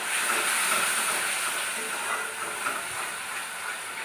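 Powdered turmeric, cumin, coriander and red chili soaked in water fry in a pan with a steady, close hiss and sizzle, bright and even throughout, with a voice faintly underneath.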